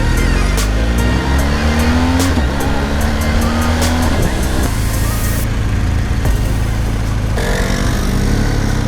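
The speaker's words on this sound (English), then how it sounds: "Quick! Chase after the little Vespa!" A small Vespa scooter engine drones loudly and close by, its pitch rising and falling steadily as it passes, with no voices over it.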